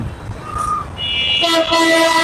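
A train approaching along the railway line, a low rumble building into a loud horn blast from fairly close by, with the sound swelling toward the end.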